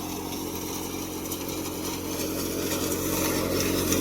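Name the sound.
Jangeer soybean threshing machine running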